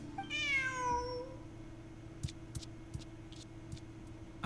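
Cat in Genshin Impact gives one clear, drawn-out meow near the start, followed by soft scattered ticking clicks against a low steady hum.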